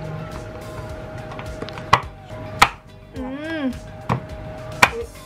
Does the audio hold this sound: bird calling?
no